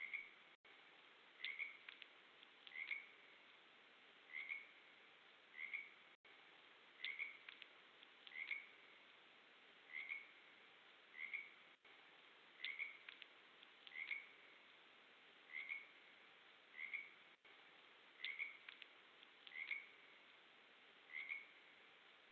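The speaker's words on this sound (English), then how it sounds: "The frog sound in the background came from one of those clips as well" Frogs croaking steadily from a wildlife trail camera recording outdoors, short repeated calls roughly every second or two, moderately near, over a quiet background hiss with no talking.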